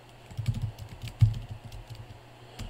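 Computer keyboard typing as a class name is entered, a short run of soft, quick keystrokes with one slightly firmer press, close and quiet with no voices.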